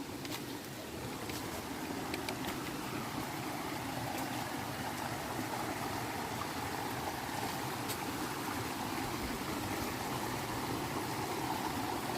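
Continuous rushing water from a forest waterfall, a steady broadband wash pouring over rocks, with occasional faint clicks and no voices.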